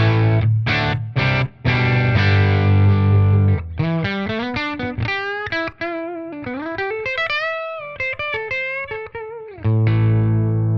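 Distorted lead electric guitar played through a 1965 Fender Deluxe Reverb with a V30 speaker, opening with loud sustained chords, then a run of bending, vibrato-laden single notes before ringing chords return, close and alone.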